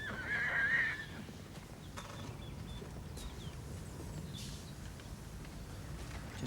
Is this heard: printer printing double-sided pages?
no